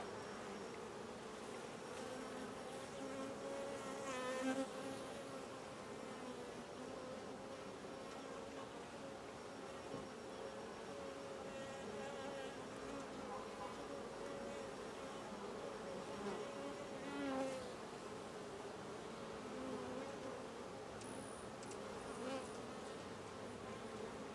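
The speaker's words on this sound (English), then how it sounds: "I got a bee on my finger." Many bees hum in a close, continuous drone, with individual buzzes swelling as insects pass near.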